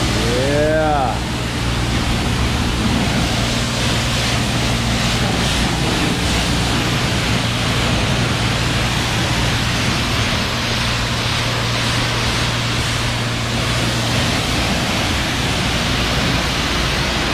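Steady broadband water spray from a hose washing a Chevy Impala rebuilt from a Copart salvage car, a loud continuous hiss filling the whole stretch with a low hum underneath and no speech.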